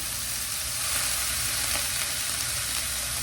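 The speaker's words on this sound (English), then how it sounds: "We're going to let them saute in this hot pan for just a minute." Peppers sauté in a hot pan for sweet and sour peppers, giving a steady, close broadband sizzle with faint stirring that holds at an even level throughout, with no talking.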